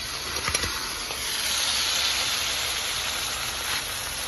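Boiled dal poured into a spiced, oil-releasing masala base for egg tadka hisses and sizzles steadily, a close, continuous frying noise with a few small pops early on.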